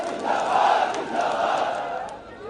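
A large crowd at a BJP political rally chants and cheers a party slogan in unison, in swelling waves of massed voices that are loud but a little distant.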